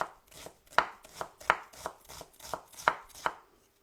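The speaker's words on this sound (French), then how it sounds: "Et donc, vous émincez ça finement" A knife finely slicing an onion on a board for cucumber kimchi, with about ten crisp, evenly paced chops heard up close and alone.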